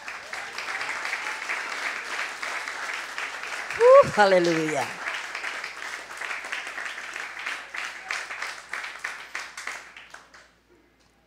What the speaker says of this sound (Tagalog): Lahat nga ay pumalakpak uli.